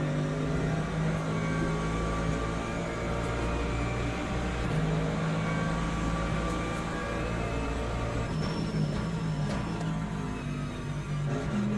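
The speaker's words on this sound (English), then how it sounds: "Listen to that whine on the engine." Race car engine in Le Mans Ultimate, a steady, loud sustained drone with a high whine running continuously, no voices over it.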